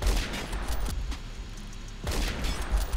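Remington 700 bolt-action sniper rifle shots in Phantom Forces, with a couple of booming reports and a low rumbling tail over steady background noise.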